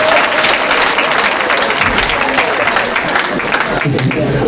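An audience at a church consecration ceremony in a hall claps loudly and continuously, a dense, sustained wall of applause mixed with crowd voices.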